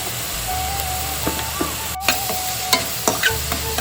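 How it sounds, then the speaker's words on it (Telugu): Onions sizzle in hot oil with salt and turmeric while being stirred, a steady frying hiss broken by scattered scraping and clinking strokes of the spoon against the pan, close and fairly loud, with no talk. "ఉల్లిగడ్డలు బాగా వేయించే వరకు కలుపుతూ ఉండాలండి"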